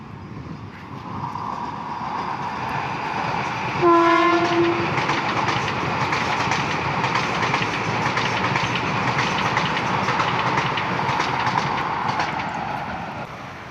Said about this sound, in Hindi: आई थिंक ये वंदे भारत होगी, दिल्ली अमृतसर वंदे भारत। और ये मोहाली साइड से चौथी ट्रेन हम कैप्चर कर रहे हैं।